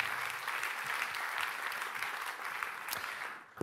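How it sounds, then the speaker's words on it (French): Applause from a remote audience in Guadeloupe during a French regional conference, a steady dense clatter of many hands, moderately distant, tapering at the end. "on vous applaudit du côté de la Guadeloupe."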